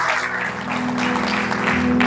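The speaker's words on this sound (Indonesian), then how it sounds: "Berikan tepuk tangan yang meriah buat Allah kita" Congregation applauding during a church service in Indonesia, a dense, steady wash of many hands clapping close by, with a sustained tone humming beneath it for the full two seconds.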